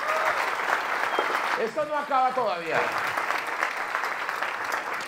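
A stand-up comedy audience in Cúcuta applauds steadily and loudly, with someone briefly talking in Spanish over the middle of the ovation before it carries on.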